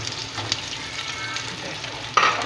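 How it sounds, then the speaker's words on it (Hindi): Two medium onions sizzle in hot oil in a pan while frying toward golden brown for beef yakhni pulao, a steady close crackle with a brief stirring scrape near the end. "2 मीडियम साइज़ की प्याज हैं और हम लोगों ने इसको गोल्डन ब्राउन कर लेना है।"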